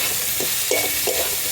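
Chopped tomatoes land in a pan of frying onions, giving a steady close sizzle with a few soft stirring scrapes and thumps and no talking.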